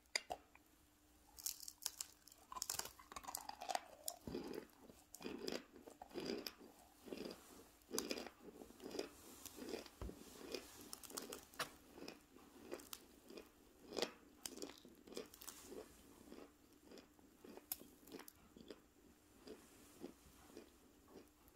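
Crunchy edible clay treats are bitten and chewed up close in an ASMR recording, a long run of crisp, irregular crunches and snaps with no talking.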